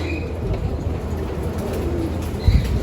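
Pigeons in a loft, a continuous close, low murmur of cooing and rustling wings, with a brief louder flutter near the end and no speech.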